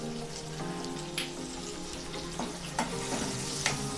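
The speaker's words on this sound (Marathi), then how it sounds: "आणि आपण जी कैरी घेतलेली ती मिनिटभर परतून घेणार आहोत" Raw mango pieces with turmeric sautéing in a pan, a quiet continuous sizzle under faint intermittent stirring clicks and a steady background hum, no talk.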